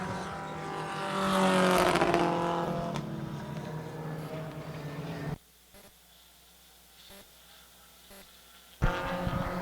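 Race cars roar past on the final lap of an oval race, a loud swelling pass that fades and then cuts to a quieter stretch with a distant engine whine.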